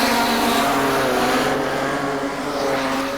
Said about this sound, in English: Down here at track level, that car is misfiring.